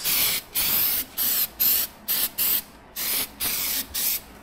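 Spray paint can sprayed in about nine short hissing bursts, each roughly a quarter to half second long with brief gaps, close and steady, no talk.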